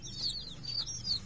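Short high chirpy clucks from a hen, repeated a few times over a low steady background hum.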